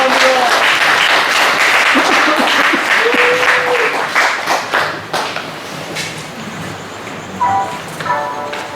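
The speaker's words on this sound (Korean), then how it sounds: "다 같이 뜨거운 박수로 환영합니다" A hall audience at a film production launch ceremony claps warmly to welcome a pastor to the stage; strong applause with a voice over it for about five seconds, then thinning into scattered claps and background sounds.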